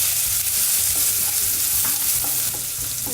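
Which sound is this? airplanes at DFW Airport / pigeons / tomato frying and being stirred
tomato frying and being stirred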